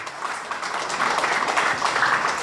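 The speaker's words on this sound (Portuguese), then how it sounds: "Aplausos para Alexis" Audience applause for an honoree at a creative, artistic and literary event, a steady wash of many hands clapping that grows slightly fuller partway through, fairly close.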